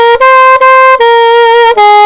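A single sustained melodic instrument plays the Twinkle Twinkle Little Star melody moving through a major scale, five loud clear notes with short breaks between them, alone.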